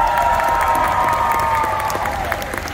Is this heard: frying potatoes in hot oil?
no